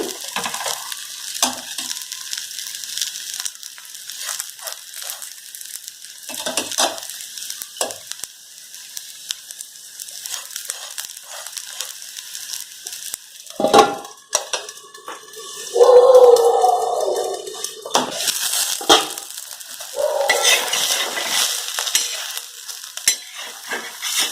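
Spiced thalipeeth flatbread roasts in a pan with a soft steady sizzle, broken by utensil scrapes and a louder clatter partway through, and a little speech now and then.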